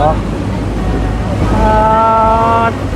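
A boat travels on the Chao Phraya River at night during the Loy Krathong festival, with steady water and wave rush throughout and a sustained horn-like tonal sound joining midway, loud and close to the microphone.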